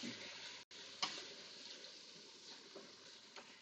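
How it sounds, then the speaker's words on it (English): Chicken pieces sauté and brown in an Instant Pot, giving a steady soft sizzle and crackle with a few small clicks and ticks, heard close and alone. "we just want it to get to the just about sauteing, the browning"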